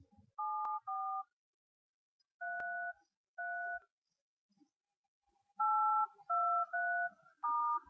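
Telephone keypad dialing tones play as a series of short, clean beeps, some spaced apart and others in a quick run. They sound fairly quiet, with no voices.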